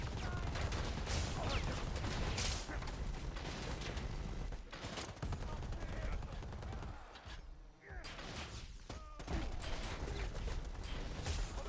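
Minigun fire in Predator: Hunting Grounds, a continuous dense crackle of rapid shots with echoing booms across a busy, loud battle soundscape.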